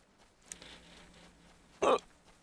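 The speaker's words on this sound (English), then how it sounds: "That'll stop the hiccups." A single short, sharp hiccup bursts out near the end, loud against a quiet background with faint low room noise.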